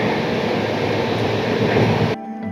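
Saraighat Express train on the Howrah to Guwahati run, a steady loud rumble of wheels on rails with a broad rushing roar that cuts off abruptly near the end.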